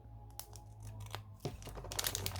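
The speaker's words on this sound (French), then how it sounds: "Je prends mes ciseaux et je découpe mon washi." Scissors cut through washi tape for a Halloween-style pouch craft: a few short crisp snips and crinkles, close by, over a steady low hum with no speech.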